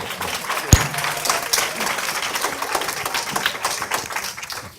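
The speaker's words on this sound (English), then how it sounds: "Please give them a round of applause and thank you very much for coming." An audience at a panel discussion on ending violence against women and girls gives a lively round of applause, dense and fairly close, with one sharp thump near the start and cheering voices mixed in.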